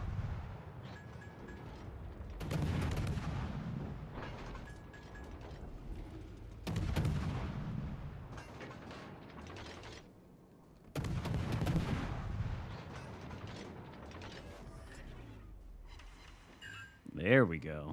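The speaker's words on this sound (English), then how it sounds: "Now I guess it's damage farming time with the main battery guns." Warship main battery guns in World of Warships: Legends fire three or four heavy, booming salvos spaced several seconds apart, each with a deep rumbling tail, under a low background of speech.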